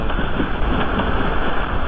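Loud, steady wind roars against the microphone, a thick continuous rush with no pauses.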